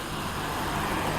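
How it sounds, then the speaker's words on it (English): Dense, steady roadway noise from passing vehicles, a continuous rumble and hiss with no breaks. "A lot of traffic right now where I am"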